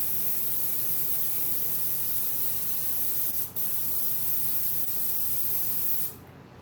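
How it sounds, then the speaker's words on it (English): Continuous close hiss of an airbrush spraying ink onto the fur of a mask, steady and loud, with a brief interruption midway before it cuts off near the end. "Again, I'm just airbrushing."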